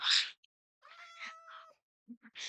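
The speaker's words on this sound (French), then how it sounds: "C'est quoi c'est qui le chat qui miaule comme jamais là?" A Minecraft cat meows in a drawn-out, wavering cry, loud and close. Short, brighter bursts of game sound come before it and after it, with no talk.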